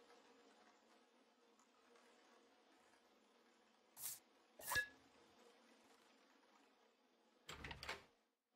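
Door in the Aka Manto horror video game being held shut by dark spirits: a quiet ambient drone, then a few short, loud thumps or rattles at irregular intervals, with a longer burst near the end.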